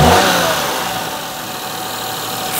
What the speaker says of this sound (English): Usual just a second or two of clatter before the hydraulic tappets fire into life.